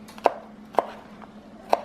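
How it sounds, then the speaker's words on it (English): A knife chopping onions on a cutting board, three sharp, evenly spaced thuds against a quiet kitchen background. "I'm chopping these onions for 2 soups"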